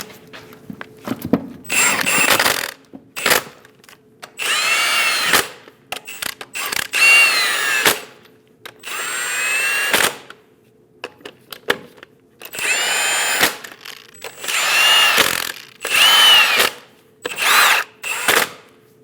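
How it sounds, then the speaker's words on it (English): A power tool snugs down the lug nuts on a 2001-2006 Chevrolet Silverado truck wheel, with repeated loud whirring, ratcheting bursts separated by brief pauses and no talking. "Snug down all the lug nuts."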